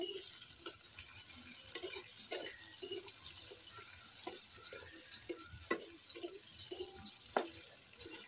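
Chopped onion and garlic fry in a pan and make a steady close sizzle. Stirring scrapes and clinks break through it in irregular bursts, and there is no talk.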